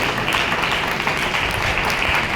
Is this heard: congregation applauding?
yes